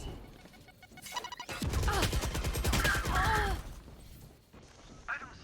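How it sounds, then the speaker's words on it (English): A swarm grenade deploys in the shooter Valorant as a loud, fast rattling burst of crackling impacts lasting about two seconds, alongside game voices, then fading into quieter effects. "Placing swarm grenade. Swarm grenade out."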